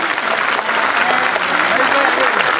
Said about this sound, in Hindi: जोर से ताली बजाना, एकदम जोर से।